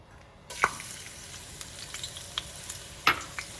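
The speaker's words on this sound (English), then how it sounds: "our oil's hot. What we're going to do is we're going to start with our shallot." Shallot goes into hot oil for risotto and sizzles softly and close, with a gentle hiss and a few sharp pops and ticks scattered through it.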